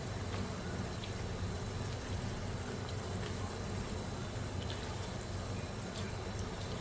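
Sugar cooking in ghee in a pan for suji halwa, a faint, steady bubbling simmer with a soft hiss and no talk.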